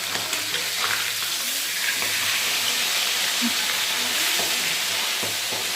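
Fish roe spluttering and popping in hot oil, a loud continuous sizzle with scattered crackles throughout, close by and without talk.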